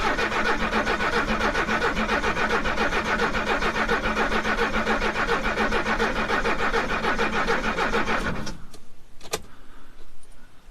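An old Mercedes that sat in a garage for 20 years cranks loudly and steadily with a rhythmic starter churn, then cuts off, followed by a few faint clicks.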